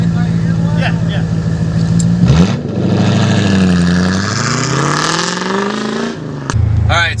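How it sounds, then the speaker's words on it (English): Loud V8 car engine revving up and down, the pitch sweeping high and falling back in close, roaring bursts with a sudden cut and restart; voices are faintly present. "the V8 car was way too loud"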